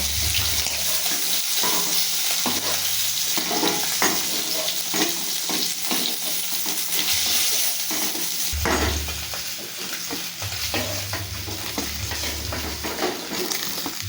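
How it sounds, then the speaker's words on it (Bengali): Fish frying in hot oil in a pan gives a continuous close sizzle, with intermittent scraping and stirring sounds and low bumps of handling throughout. "বাকি মাছগুলো আমি ঠিক একইভাবে ভেজে নেবো"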